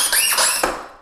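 Dry, ungreased part on an unused Hoveround MPV5 power wheelchair with electric seat lift squeaking: a few close, shrill rising squeaks in quick succession that fade out.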